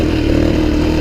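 Suzuki DRZ400e dirt bike in third gear on a rough, choppy trail, its engine droning steadily and loudly up close without a break through the whole moment.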